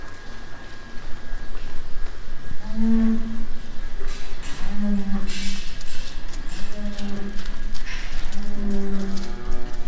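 Cows and heifers mooing in a calving barn, several long, loud lowing calls repeating every couple of seconds over steady barn noise, with people talking in the background.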